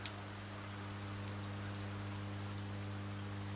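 Steady, even rain pours down in the video game Oxenfree, a constant close hiss of drops on surfaces that fills the whole stretch with no pauses and no voices.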